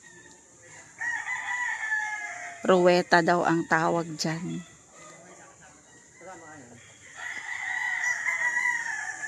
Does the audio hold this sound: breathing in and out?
no